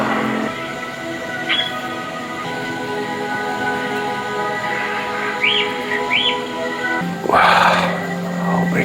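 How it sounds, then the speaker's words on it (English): Jungle-style animal and bird sounds from spa background audio during a massage at a wellness sanctuary: scattered bird chirps and calls ring over a soft, sustained ambient music drone, with one louder burst near the end. "you can hear animals in the background,"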